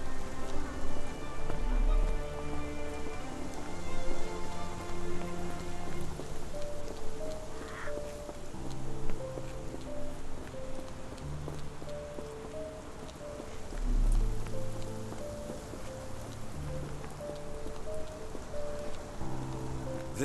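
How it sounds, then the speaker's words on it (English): Steady rain in the Sherlock Holmes The Awakened video game, a continuous soft patter laid under sustained musical tones, with a brief swell in the middle. "This dreary rain is making a miserable day even worse."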